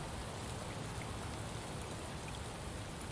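Steady, dense downpour of heavy rain in the video game Shadows of Doubt hissing across the whole clip, constant and loud with no breaks or voices.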